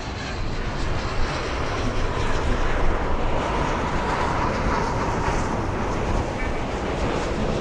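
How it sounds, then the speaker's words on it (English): Airbus A350 airliner at Los Angeles International Airport, its jet engines a loud, steady broadband roar that holds near constant throughout with no talking. "That A350 has a very long flight ahead of it."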